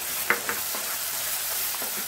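Tomato paste sizzles and is stirred into prawn kurma masala in a pan, a soft continuous frying hiss with a few light scraping strokes of the spoon, close and brief, no voices.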